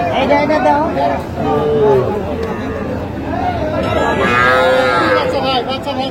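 Cattle moo loudly and repeatedly close by, over a background of crowd chatter and people talking at a busy livestock market in Bangladesh where young calves are sold.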